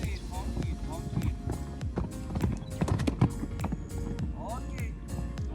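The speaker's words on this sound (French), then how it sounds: "Donc là, Agathe, ton cheval est bien rentré, bien régulier dans la ligne" A horse's hooves clip-clop in a steady, regular rhythm during a show-jumping lesson in Normandy, close and continuous beneath a coach talking.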